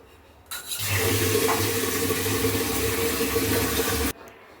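Rice is washed in water, a steady loud rush of pouring, sloshing water lasting a few seconds before stopping abruptly.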